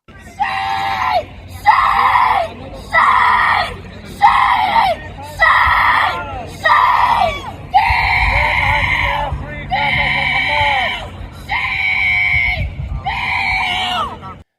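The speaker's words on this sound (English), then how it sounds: "the Israeli flag is making her screech like this" A protester near an Israeli flag screams in long, loud, repeated screeches, about ten drawn-out cries separated by short gaps, harsh and close, with faint crowd noise underneath.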